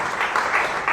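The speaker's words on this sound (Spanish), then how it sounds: "Dar un aplauso a Dios" A church congregation at Centro Cristiano de Fe applauds during a worship service, a brief, steady wash of many hands clapping close by without any speech.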